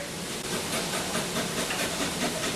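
A handheld rasp grater scrapes over a woody, fibrous root in a steady, close, dense hiss of rough strokes that continues without pause.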